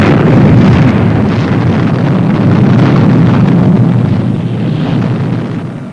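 A loud, sustained explosion detonates on target in a vintage science-fiction puppet series, a dense roaring blast that fills the whole span with rumbling noise before slowly tapering off.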